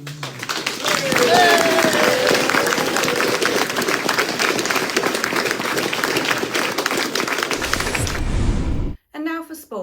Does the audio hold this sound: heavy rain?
no